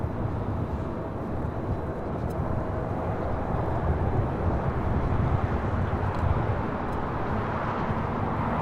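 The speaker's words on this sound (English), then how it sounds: "Alaska 737-900ER coming in from Portland, flight 1172" An Alaska Airlines Boeing 737-900ER arriving at LAX, a steady low jet roar with a broad wash of engine and wind noise that swells slightly midway.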